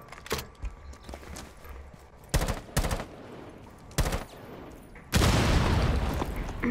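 Gunfire in the tactical shooter Rainbow Six Siege: several sharp shot bursts, then a sustained loud volley near the end, with faint background clatter between them.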